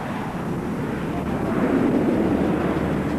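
McDonnell Douglas F-18 jets make a low, slow flyby with landing gear and tailhooks down, a broad steady roar building slightly in loudness at an airshow.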